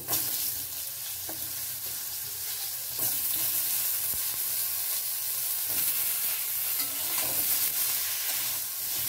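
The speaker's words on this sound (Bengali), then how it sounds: "পটল আর বেগুনটা ভেজে নেব।" Pointed gourd and eggplant fry in oil over a medium flame, a dense continuous sizzle and hiss with occasional spatula scrapes, close and loud, no talking.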